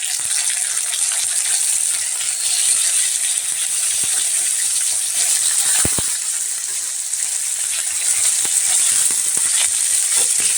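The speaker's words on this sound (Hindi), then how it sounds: "तो अब हम इसमें डाल देंगे टमाटर, जो हम मेहनत से काट लिए हैं।" Egg bhurji frying in a pan as chopped tomatoes go in, a loud continuous sizzle with scattered clicks and stirring scrapes of the utensil against the pan.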